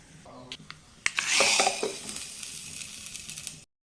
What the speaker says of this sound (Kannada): ಈಗ ಒಗ್ಗರಣೆ ಫ್ರೈ ಆಯಿತು